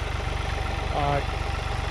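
A John Deere 3046R compact tractor's engine runs at a steady idle-like rumble close by during brush clearing, briefly joined by a faint higher tone.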